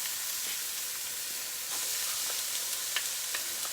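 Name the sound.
peppers and vegetables added to sizzling pork stew pot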